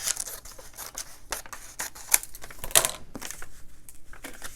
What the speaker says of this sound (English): And now I'm just going to trim it.